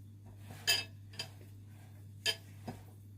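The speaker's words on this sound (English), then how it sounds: "I've just made a well in the liquid ingredients and I'm just mixing this in." Utensil clinks against a bowl while cake batter is mixed from a well in the liquid ingredients, a few sharp taps spaced irregularly over a low steady hum, moderately close.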